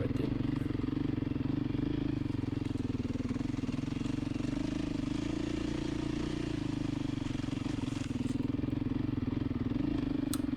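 A Beta 500 RR-S dirt bike runs on overgrown single track, its engine chugging at low, steady revs with a continuous close thump and mechanical clatter and no voices.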